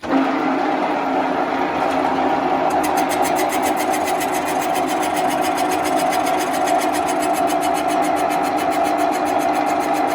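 A cylinder boring machine switched to position B runs steadily at 400 rpm, a continuous mechanical whir and hum with a high regular ticking that sets in after a few seconds, loud and close with no talk.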